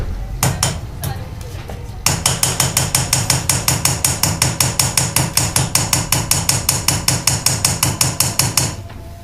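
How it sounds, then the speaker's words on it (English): A hammer strikes metal, a few scattered blows then a long, rapid, even series of sharp ringing hits, close and loud. "This is actually a riveting hammer, another type of riveting hammer"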